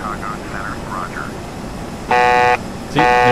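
An ERJ-145 cockpit alert in a flight simulator game sounds twice, a loud, steady electronic buzzing honk that holds for about half a second each time, separated by a short gap, over low engine hum with radio talk before it.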